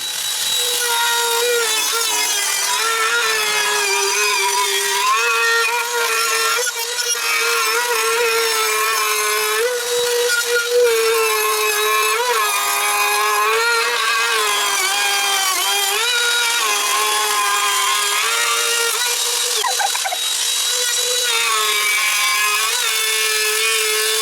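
A power tool trimming wood on a teardrop trailer hatch gives a loud, continuous high whine that wavers in pitch as the cut progresses, with short bumps in loudness and no voices.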